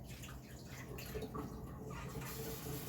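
Tap water runs steadily into a container to fetch clean water for yarn dyeing, a faint continuous pour and splash with no voices.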